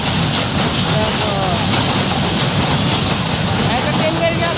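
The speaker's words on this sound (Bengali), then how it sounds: "দেখো ট্রেন আসতেছে।" A train approaches near a rail bridge, making a continuous, loud, broadband rumble that holds steady throughout, with voices over it.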